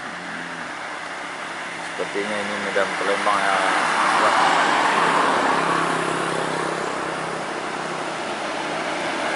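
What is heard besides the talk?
Putra Pelangi bus driving past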